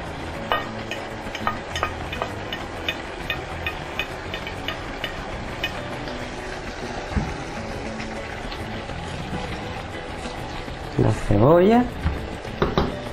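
Two onions frying in a pan give a steady, soft sizzle with occasional stirring clicks, and near the end a voice speaks briefly over it.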